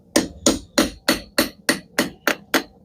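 A large custom metal hook being hammered into shape, nine sharp, evenly spaced ringing blows landing close and loud in a steady rhythm with nothing else between them.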